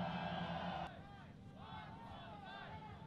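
A crowd at an EEDC drift event in Belarus roars and cheers for drift driver Max Miller. The steady, dense noise swells loudly at first, then continues a little lower under faint motor sounds.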